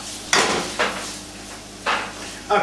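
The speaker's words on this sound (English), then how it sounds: "Now that our veggies are sizzling again," Steady frying sizzle of chicken and vegetables for fajitas in a pan, with a few loud scraping stirs, close up and without talk.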